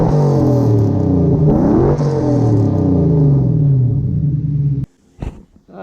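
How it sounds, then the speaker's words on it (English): A ute's engine revs loudly and close, the pitch rising and falling through several sustained revs, before it cuts off abruptly into near quiet with a few brief clunks. "the ute got a little bit louder since it was last here"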